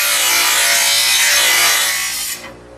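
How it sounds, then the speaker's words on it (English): A lawnmower blade is sharpened, producing a loud, close, continuous rasping grind that fades out near the end, with no talk. "you'll see where I'm sharpening the blade and balancing it"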